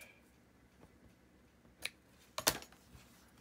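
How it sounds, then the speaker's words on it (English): Scissors trim paper cut from junk mail envelopes, making two short, crisp snips close by in an otherwise quiet room. "I'm just gonna give these a little bit of a trim, not much."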